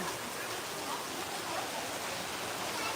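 Rainwater pouring steadily off corrugated tin roof sheets during a heavy rural downpour, a dense continuous wash of splashing water, close and unbroken, with no clear voices.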